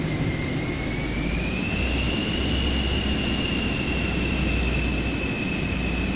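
Jet engines roar steadily at close range through a takeoff in a simulated airliner, a broad dense rush with a rising whine layered on top and no break from start to end.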